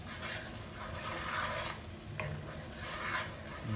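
A pot of salted base for Indian-style shrimp caldinho simmers quietly, giving a steady, soft hiss and bubbling with faint scraping, close by and with no voices.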